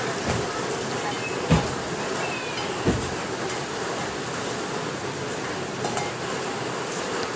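Homemade black masala spice mix fries in oil in a pan, a soft continuous sizzle with a couple of sharp utensil knocks against the pan.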